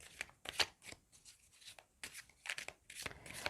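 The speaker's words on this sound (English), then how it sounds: "I'm shuffling the cards for you now." Tarot cards shuffled by hand up close, with soft irregular bursts of flicking and sliding card sounds separated by brief pauses, faint and without talk.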